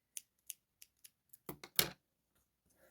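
Scissors snip sewing thread while a panda plush toy is being stitched. Several light, quick clicks come first, followed by a few louder, fuller cuts close by, with no talking.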